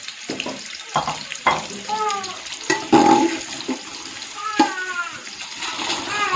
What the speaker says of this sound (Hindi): ऑयल हमारा गर्म हो गया, अब इसमें प्याज डाल लेते हैं और प्याज को अच्छे तरीके से ब्राउन कर लेना है